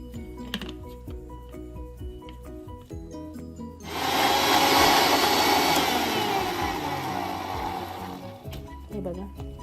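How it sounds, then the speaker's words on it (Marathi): A mixer grinder blending watermelon with mint, sugar and salt, a loud steady whirring drone that starts abruptly, runs for several seconds and then stops, with background music before and after. "आता हे सर्व साहित्य आपण मिक्सरला फिरवून घेऊया"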